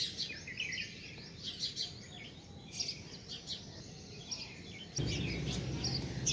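Several small birds chirp and tweet in quick, scattered calls, fairly faint against a low background hum that grows slightly louder toward the end.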